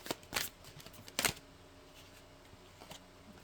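Oracle cards from a Mystic Forest deck are shuffled in two quick, crisp riffling bursts close by, followed by quiet room tone with a faint rustle.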